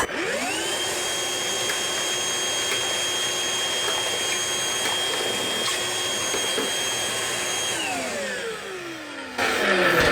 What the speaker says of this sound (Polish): odkurzamy ponownie nakrętki